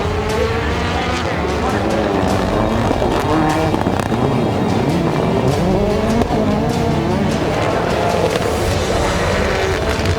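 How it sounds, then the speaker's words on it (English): Rally cars at an X Games rally race roaring into a turn, with loud continuous engine noise, tire scrabble and skidding on loose ground, plus commentary talk over the racing. "Into the first turn, Bucky waits for an opening and slides into 3rd past Deegan and Wieman"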